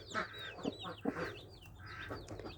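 A broody hen sitting on her eggs gives a run of soft, close clucks and low grumbling calls, with a few sharper notes, and sparse chirps from nearby chicks.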